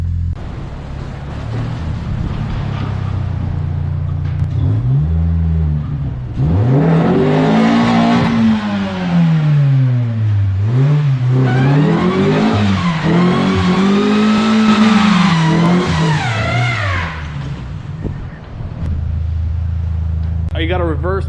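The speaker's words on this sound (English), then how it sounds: "You got a reverse burnout, not a normal burnout, but hey, burnout's a burnout" Subaru Impreza wide body track car doing a reverse burnout in the snow, engine revving hard in rising and falling swells close by, with people talking over parts of it.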